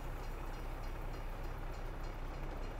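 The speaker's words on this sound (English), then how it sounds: "Well, the train should be coming through." A diesel locomotive train passes in Farming Simulator 22, a steady faint rumble of rolling wagons and engine drone holding evenly throughout, with no other sounds.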